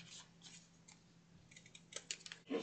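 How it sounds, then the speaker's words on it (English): Scissors snip through bag material in a series of short, crisp cuts, close and quiet, with small pauses between snips and a louder final cut. "I am angling them just a little bit by just cutting at an angle here"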